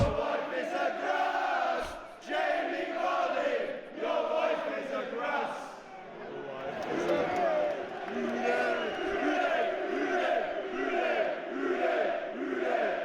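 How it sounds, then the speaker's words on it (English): Football crowd in a stadium singing a chant about striker Jamie Vardy, a massed chorus of voices rising and falling in a sustained rhythmic song, loud and continuous with brief dips. "when he plays football, the crowd sing chants like this"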